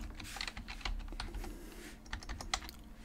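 Quick typing on a computer keyboard, a fast irregular clatter of close, crisp key presses running without a break, with a few slightly harder taps, and no talk.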